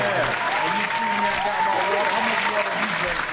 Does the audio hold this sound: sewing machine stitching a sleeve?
no